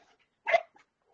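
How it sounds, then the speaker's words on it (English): A single short dog bark indoors, close and sharp, followed by a faint brief yelp and near silence. "There's nothing out there. Quit barking."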